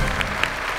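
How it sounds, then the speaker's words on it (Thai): A studio audience on a Thai television talent show claps to welcome a guest, a steady wash of applause with a few sharper individual claps standing out over less than a second. "ขอเสียงปรบมือต้อนรับเชิญเลยครับ"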